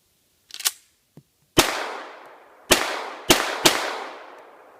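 A Springfield Armory TRP Operator 1911 pistol fires handloaded ammunition: a weaker early pop, then four sharp, loud reports with ringing decay, the last three coming close together.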